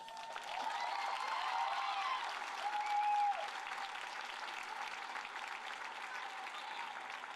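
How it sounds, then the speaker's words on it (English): Crowd in a high school gymnasium at a boys' basketball game applauding honored guests: a sustained, even wash of clapping that fills the hall, loud at first and tapering slightly toward the end. "please join me in a round of applause for all our honored guests"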